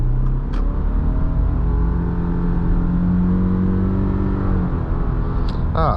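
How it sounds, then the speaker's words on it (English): A 2024 Subaru Crosstrek Wilderness with a CVT accelerates from inside the cabin, its steady loud engine drone rising in pitch and briefly dropping at a simulated shift before climbing again, with no talk. "Let's hear this fake shifts."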